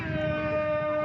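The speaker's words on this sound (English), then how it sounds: "that's the siren for half time" A brief, steady half-time siren tone sounds over a murmuring crowd at a touch football grand final, holding one pitch for about a second.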